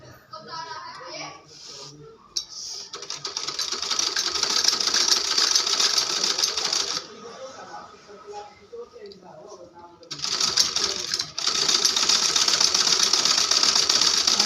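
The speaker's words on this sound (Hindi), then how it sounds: "मैं सिल देती हूँ इसको" A sewing machine stitches a torn school shirt at home, running in two long, fast, steady bursts separated by a pause, with a voice talking briefly at the start and in the gap.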